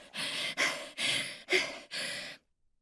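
Five heavy, breathy exhalations come in a steady rhythm, each about half a second long, loud and close, followed by silence at the end.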